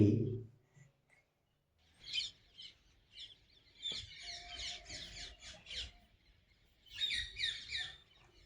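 Peacocks in front of a village house give loud, harsh calls in several bursts separated by short pauses.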